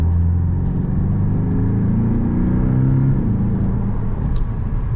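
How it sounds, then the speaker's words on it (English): Engine of a 2017 Porsche 718 Boxster Base with PDK drawing air and spooling its turbo, a deep steady rumble with a rising whirring tone close by, uninterrupted by speech. "You hear that air going in and that turbo spooling up"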